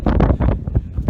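Strong, cold wind buffets the microphone on a mountain rim, loud, close gusts of rumbling roar rising and falling in quick pulses.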